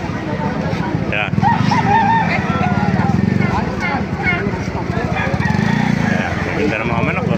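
Roosters crow loudly nearby at a market in Baliuag, Philippines, several overlapping calls, with clucking and people talking in the background.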